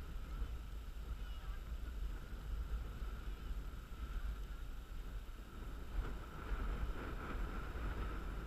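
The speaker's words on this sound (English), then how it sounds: "Pretty darn windy out here." Strong outdoor wind buffets the microphone at a drone test-flying field, a steady low roaring rush that holds fairly constant throughout.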